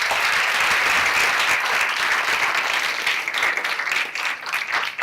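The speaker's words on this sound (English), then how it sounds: "If you could add a round of applause for the panel." An audience at a health and wellness technology event gives the panel a round of applause, a dense burst of clapping that holds steady for several seconds before thinning out slightly at the end.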